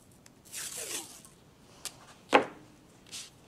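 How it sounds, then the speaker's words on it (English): Tape pulled and torn off a roll while taping down paper for a hand-drawn repeating pattern, heard as a couple of quick ripping strips and one sharp tear near the middle, fairly close and alone. "So I'm gonna tape that."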